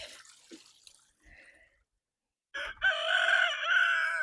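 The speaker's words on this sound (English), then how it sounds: "if Laddie starts it, like crows at Cosmo, then Cosmo will" After some faint background bird sounds and a brief pause, a rooster crows loudly and close by, one long drawn-out call that fills the last half.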